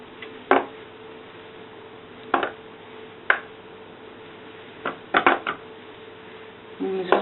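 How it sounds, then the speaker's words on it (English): Knife cutting about 100 grams of butter into small pieces on a board for Welsh cakes: a handful of short, sharp taps and clicks spaced irregularly, with a quick cluster near the end, close and fairly crisp against quiet background. "I'm going to cut it into small pieces."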